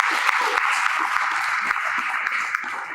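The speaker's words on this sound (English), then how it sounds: "Clap it up for that." An audience claps continuously at a talk about building generational wealth, a bright, even patter that holds steady throughout, with faint voices mixed in underneath.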